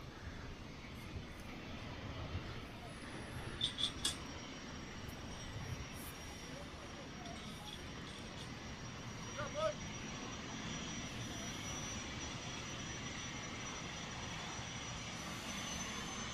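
A NetJets business jet over the runway in Hawaii at sunset, a faint, steady distant engine rumble under wind and ambient noise, with someone talking quietly over it.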